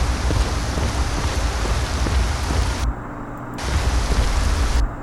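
Steady rain in the video game Skyrim hisses as a loud, dense wash with no talk, dipping briefly in the middle before resuming.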